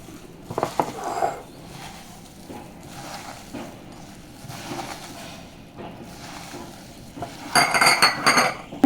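Soya chunks are tossed by hand or spoon with salt and spices in a bowl, making soft intermittent stirring and scraping noises with occasional utensil clinks and a louder burst of rattling near the end.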